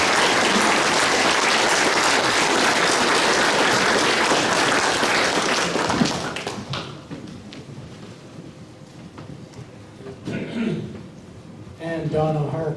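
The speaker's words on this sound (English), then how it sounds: "please join me in giving the Watrous Rotary a big round of applause" Loud applause from a crowd at a Rotary club 85th anniversary program, sustained for about six seconds before thinning into scattered claps, with a voice speaking faintly as the clapping dies away.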